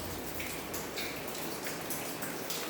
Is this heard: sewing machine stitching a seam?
no